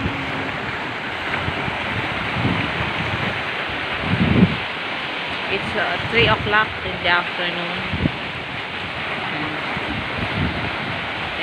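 Ocean waves at high tide during a tropical depression, rumbling continuously near the shore under heavy wind noise on the microphone; someone speaks briefly partway through.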